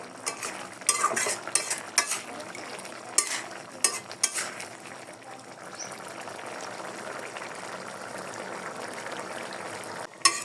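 Young jackfruit and chana dal being stirred and sautéed in a pan in a Bengali village kitchen: a few sharp utensil scrapes early on, then a steady soft sizzle with one last clink at the end.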